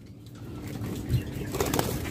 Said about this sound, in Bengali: আমাদের খামারে দেখছেন হাজারো উপরে পাখি আছে